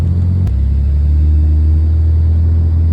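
Steady low car engine and road rumble from inside an Uber ride heading to the beach, continuous and fairly loud, with no talk.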